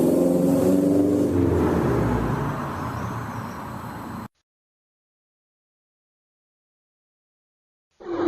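A Lego stop-motion race car engine revs loudly at first and then fades into a whir, followed by several seconds of complete silence before a sudden loud burst at the end.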